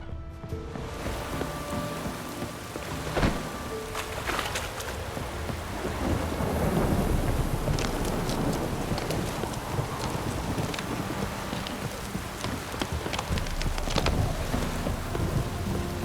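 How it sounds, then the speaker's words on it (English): Thunderstorm in The Witcher 3 on PS4: steady heavy rain hiss with wind, a sharp thunder crack early on and rolling rumbles building through the middle, all continuous and close with no voices. "A storm, damn it."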